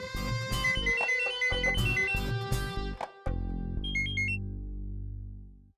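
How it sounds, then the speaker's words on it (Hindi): A phone ringtone plays a repeating melodic tune, loud and close, cycling through several short bursts before a brief higher chirp at the end. "हाँ मानवी दी, अब क्यों फोन कर रही हो आप?"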